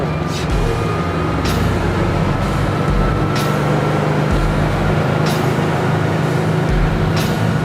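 A motorboat engine drones low and heavy, with sharp slaps against the hull roughly once a second as it gets moving.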